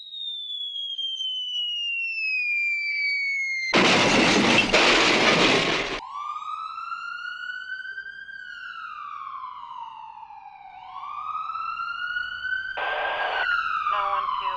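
A wailing ambulance siren sweeps up and down, loud and near, interrupted by bursts of harsh dispatch radio static and a blaring alarm-like tone.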